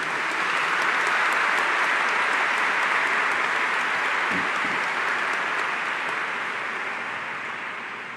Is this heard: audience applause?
yes